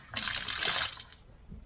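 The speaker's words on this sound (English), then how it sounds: "I have a tap here which is supplied with pumped rainwater, so I will turn this tap on to drain the water." A tap fed by a BiANCO NXT INOX90S2CORE rainwater pump system drains pumped rainwater as a loud, close gush of running water that eases off after about a second.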